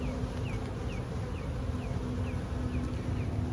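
Honey bees hum steadily around an open hive in hot weather, a faint, continuous buzz with a low drone and a few bees passing close by.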